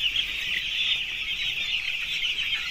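Crowded poultry house full of young chicks in a Hindi-speaking poultry farm, a dense continuous chorus of high-pitched cheeping and clucking, steady and close with no talk.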